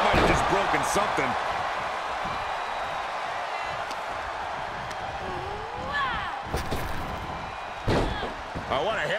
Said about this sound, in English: what a hip toss